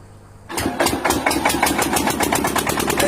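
A generator engine kicks on abruptly and settles into a loud, rough, fast mechanical chugging heard through a phone speaker, steady and close.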